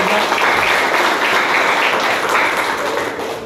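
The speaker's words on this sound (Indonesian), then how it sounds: "tepuk tangan untuk nomor urut" A crowd at a school candidate presentation gives steady, loud applause throughout for candidate number 3, a dense continuous clapping that fades slightly toward the end.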